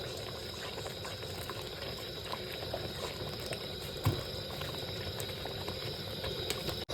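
Chicken simmering in a pot for a night picnic recipe, a steady close bubbling and hissing boil that runs throughout with no talk.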